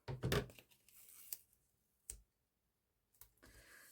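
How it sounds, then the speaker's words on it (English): Adhesive tape is pulled off a roll during a paper craft session at a table, giving a loud ripping burst, then a few short separate tearing snaps and a softer final pull, close and quiet between sounds. "let's get some tape out and some scissors."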